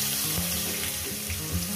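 Tomato hits hot oil with cumin tempering for a rohu fish curry, giving a loud, dense, steady sizzle that runs close and unbroken for the whole short moment.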